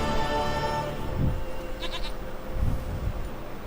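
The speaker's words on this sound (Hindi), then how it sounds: "बकरी आ गई इसकी" A goat bleats in The Witcher 3 video game, a few short wavering bleats against a sustained tonal game background, with a brief high chime partway through and no speech.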